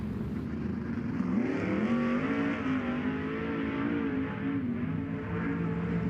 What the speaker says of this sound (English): Your next two qualifiers are getting up to speed now.